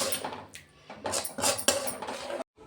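A spoon stirs cornflour slurry in half a glass for a Manchurian recipe, producing a run of close, bright clinks and scrapes against the glass in irregular bursts, then stopping abruptly.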